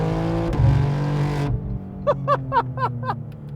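A 711-horsepower BMW G87 M2 Clubsport on the Nürburgring Nordschleife holds a loud, steady engine drone that cuts off abruptly. A quick series of short, sharp rising revs or shift blips follows, heard close from inside the car.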